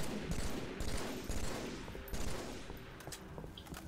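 In the Halo video game, a burst of blasts and gunfire-like cracks follows a grenade throw. The sharp bangs are loud and rapid at the start, then thin into a rumbling tail with no voices.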